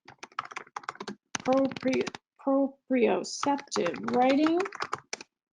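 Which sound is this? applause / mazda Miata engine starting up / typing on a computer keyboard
typing on a computer keyboard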